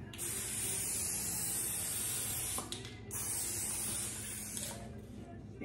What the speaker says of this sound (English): So I'm gonna spray the pan